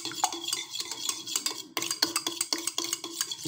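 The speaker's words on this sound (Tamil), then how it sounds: "இப்போ 2 முட்டையை நல்லா அடிச்சுக்கலாம்" Two eggs beaten in a bowl with a utensil, a quick run of rhythmic clinking taps against the bowl's sides, close and fairly loud, with one short pause partway through.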